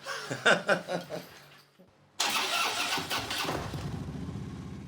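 Voices and laughter at the start give way to a brief pause. A powerful Harley-Davidson motorcycle engine then starts abruptly and settles into a loud, throbbing idle close by.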